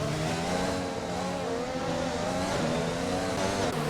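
Race car engines in an F1 racing video game at a Chinese circuit drone together in a steady, loud, layered whine, several cars holding high revs with slight pitch shifts throughout.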